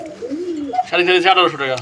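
A pair of fancy pigeons, one male and one female, coo in a short, rising and falling burst close at hand, with no other sound around them.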